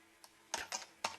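Keystrokes on a computer keyboard while a command is entered, four quiet, close, separate clicks spaced irregularly over about a second.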